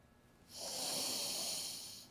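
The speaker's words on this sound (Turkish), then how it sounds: "Üç kez derin derin soluyoruz." A long, deep breath drawn in and held, a single steady rushing exhale-like sound lasting over a second, close and fairly loud against a quiet background, taken during a scene in a Turkish comedy film.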